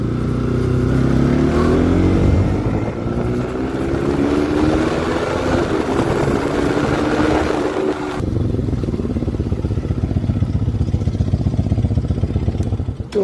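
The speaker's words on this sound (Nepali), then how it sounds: "एकजस्ट नहाल्दा नि मेरो बाइकको आवाज मिठो आउँछ" A motorcycle engine running without an exhaust fitted, with a loud, continuous, close-up drone and pitch rising as it revs, then settling into a steady throbbing putter.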